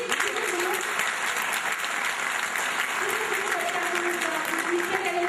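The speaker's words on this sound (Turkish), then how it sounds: "Bunu da alkışlayalım." Audience applause at a political party advisory assembly, a steady, moderately loud bed of clapping with crowd noise and raised voices mixed underneath it.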